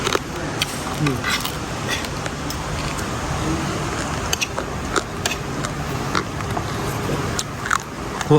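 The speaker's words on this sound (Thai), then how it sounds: "เคี้ยวปูเลย จะได้ได้รสชาติของปูโดยแท้" Chewing of salted crab at an evening meal, with a steady crunching, crackling bite texture under a constant wash of background noise.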